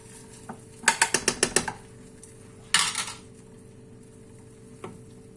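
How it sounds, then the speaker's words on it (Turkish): A metal frying pan coated with butter clatters as it is turned and handled on the stove while Sinop keşkek is cooked, giving a quick run of several close clinks followed by a single later rattle. "işte tavayı böyle döndürüyoruz tavanın da tereyağı şeyini ziyan etmiyoruz."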